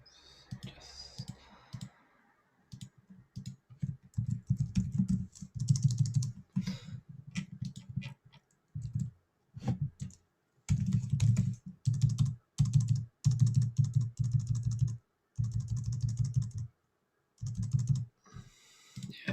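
Typing on a computer keyboard comes in irregular bursts of quick, close clicking, broken by short silent pauses, with no talking.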